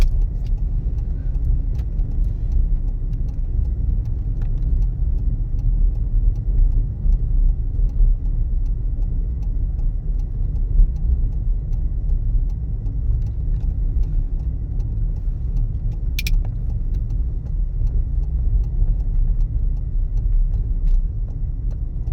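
Steady low road rumble and engine hum from inside a moving car, constant and close throughout with no one talking.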